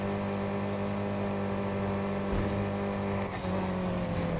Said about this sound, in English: We got a nice straightaway here for nitrous. Boost that speed up.